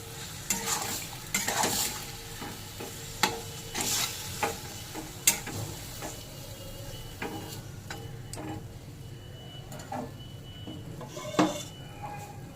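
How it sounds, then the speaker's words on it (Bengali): Marinated chicken frying in hot refined oil in a wok, stirred with a utensil: steady sizzle under repeated sharp scrapes and clinks of metal against the pan, close and fairly loud, with no voices. "তেল গরম হয়ে গেছে, এবার ম্যারিনেট করা চিকেনগুলো দিয়ে দেবো। এবার সব নেড়ে নেব।"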